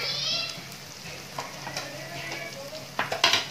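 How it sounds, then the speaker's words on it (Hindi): Ginger garlic paste fries in a pan for a chicken biryani: a moderate sizzle broken by clinking, scraping stirs, with faint voices in the background. "1 मिनट हो गए हैं लहसुन अदरक को भूनते हुए"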